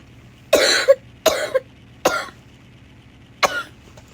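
Four separate coughs sound close by with pauses between them, the first two in quick double bursts and the last a single hack, over a faint low hum.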